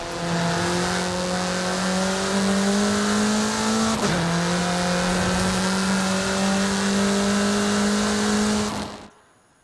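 A road-legal RR car built for track use drives in Forza Horizon 5, its engine droning steadily with a brief gear-shift dip midway, loud and alone before cutting off at the end.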